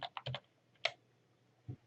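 A few quick keystrokes on a computer keyboard, a fast cluster of clicks followed by two isolated taps, close and fairly quiet.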